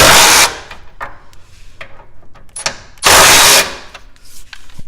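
A ratchet loosens sway bar bolts on an 82-92 third-generation Camaro, with two loud harsh bursts of rapid clicking separated by softer scattered clicks and clanks, close up.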